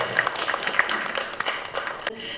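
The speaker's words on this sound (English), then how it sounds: "Please give a round of applause to Ms." Audience applause for a panelist at an academic-industry panel discussion, a brief burst of scattered clapping in a hall, moderately close and fading within a couple of seconds.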